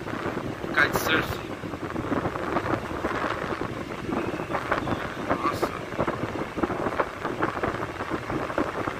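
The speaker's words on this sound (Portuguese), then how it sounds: "Vento bem forte" Strong wind at a beach in Itanhaém, Brazil, buffets the microphone in a steady roar, with gusty rumbling throughout and a couple of brief higher noises early on.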